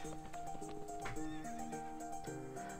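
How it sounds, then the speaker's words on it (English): Horses neighing and clip-clopping in the video game To The Moon, the whinnies and hoofbeats mixed with sustained game music throughout. "Oh, look at them riding horses together."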